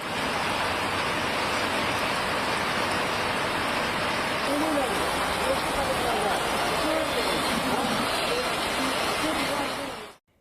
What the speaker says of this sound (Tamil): மேற்கு வங்க மாநிலம் சிலிகுரியில் இடைவிடாது பெய்த அடைமழையால் வாகன ஓட்டிகள் சிரமத்திற்கு ஆளாகினர்